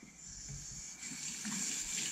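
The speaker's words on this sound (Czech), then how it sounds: "Takže v první řadě napustíme teplou vodu, ne studenou, ne horkou" Warm tap water runs steadily into a basin for soaking sausage casings during a home pig slaughter, a continuous gushing stream that grows slightly louder near the end, with no talk over it.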